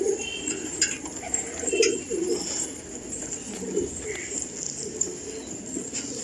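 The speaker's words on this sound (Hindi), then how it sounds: "एक एक कबूतर माशाल्लाह जबरदस्त।" Patiala pigeons coo in soft, repeated bursts close by, with other birds calling and brief clicks and rustles around the loft, and a voice speaking at moments.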